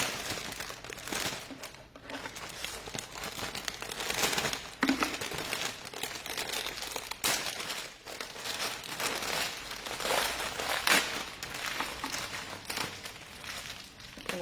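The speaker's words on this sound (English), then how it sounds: "Again, I'm going to take the plastic off them." Crinkly plastic wrapping is pulled off bouquets of cut flowers, including gerberas, chrysanthemums and roses, giving a continuous close, soft rustling and crackling with irregular louder crinkles throughout.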